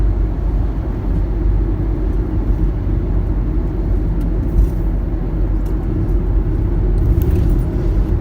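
A car drives along the road on the way to Rollesby Bridge on the Norfolk Broads, heard from inside as a steady, loud low rumble of engine and road noise with no talking.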